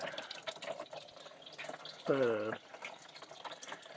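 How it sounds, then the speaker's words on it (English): Water draining steadily from a Monte Carlo street stock car raised on a lift for an engine swap, a continuous close trickle with a brief tonal squeak midway. "Draining the water a little bit there."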